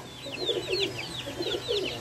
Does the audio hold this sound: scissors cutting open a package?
no